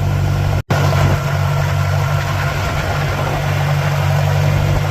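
Tractor engine running a haybine with a dying hydraulic pump, a loud steady drone with a strong low hum, close to the microphone, broken by one instant cut near the start.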